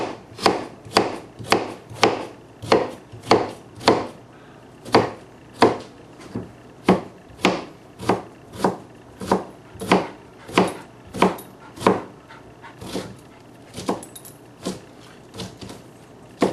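A fresh onion is chopped thinly with a knife on a cutting board: about twenty-five crisp, evenly spaced knife strikes land in a steady rhythm, close and fairly loud, with no voices.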